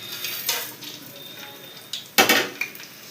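Cinnamon, cloves and cardamom drop into hot oil for chicken biryani, giving short close sizzling bursts with light metallic clinks, the loudest burst coming near the end.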